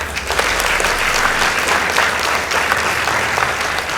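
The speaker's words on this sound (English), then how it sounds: "Let's give them a round of applause." A school debate audience gives a loud, dense round of applause for Juja Preparatory School's team, steady and unbroken from start to finish.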